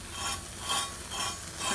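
A healthier pancake fries crisp in a pan, giving a soft, steady sizzle that swells and fades in gentle waves, quiet and close with no voices.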